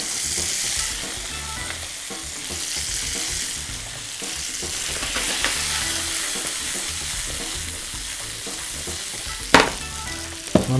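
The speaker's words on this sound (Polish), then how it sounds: "Następnie dodajemy świeżą pokrojoną cukinię." Freshly chopped zucchini fries in a hot pan with a steady, dense sizzle, close and continuous, with occasional stirring clatter and a sharp scrape near the end, no voices.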